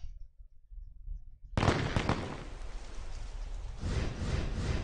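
Grenadiers attack in the mobile game Boom Beach. A sudden loud burst of crackling explosions breaks in after a quiet start, then a dense rumbling barrage keeps going with a second surge near the end.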